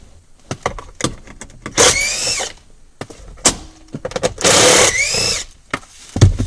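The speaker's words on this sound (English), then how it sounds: "I'm going to remove the 7mm screws." A power driver backing out 7mm screws from the plastic steering column cover of a 2011-2015 Ford Explorer, with several short whirring bursts separated by clicks and handling noises, close by and without talk.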